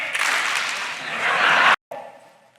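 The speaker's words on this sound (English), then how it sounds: "On the count of 3, clap your hands." An audience claps together at a motivational speaking event, a dense, steady wash of applause that swells toward the end, cuts off abruptly, then returns briefly and fades away.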